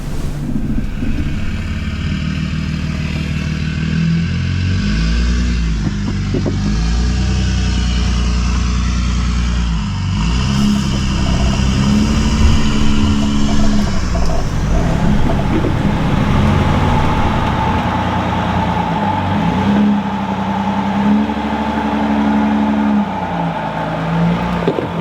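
Camper van engine labouring off-road over rocks in four-wheel drive low with lockers engaged, a steady loud low drone rising and falling with throttle, with wind buffeting the microphone and no talking.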